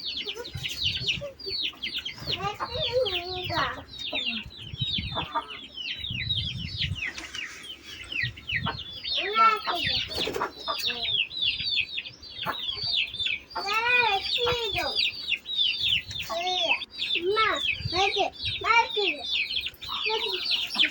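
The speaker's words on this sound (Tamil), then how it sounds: "இது என் செங்கருப்பு சேவல்" A red-black rooster clucking and crowing repeatedly, close by, with other bird chirps and a voice talking in between.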